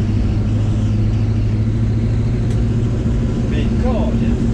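A 1978 Chevrolet K25 pickup truck drives along with a steady low engine rumble and road noise inside the cab, while people talk over it.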